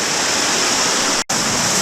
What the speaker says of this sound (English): Waterfall number 2.